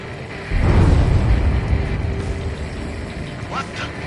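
An underwater explosion in a video game erupts as a sudden deep, rumbling boom that swells quickly and then slowly fades into a low churning roar.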